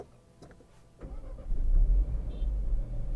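A 2026 Land Rover Defender P300 starts up with a few clicks, a quick crank, then a low growling idle that settles into a steady, fairly close rumble, with no voices.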